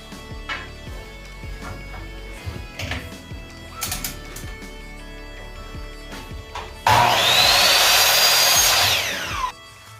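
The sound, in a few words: power saw cutting a 45-degree angle on board end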